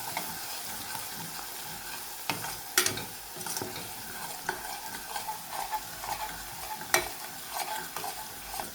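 Chopped chillies and tuvar papdi beans are stirred in a frying pan, giving a steady close sizzle broken by sharp scraping clicks of the spoon against the pan.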